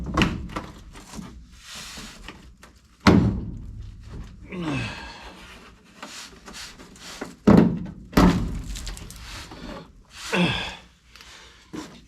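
Heavy thunks of a Little John fuel tank being loosened and dropped down, a few sharp impacts and clunks spaced apart, with breathy gasps and sighs between them.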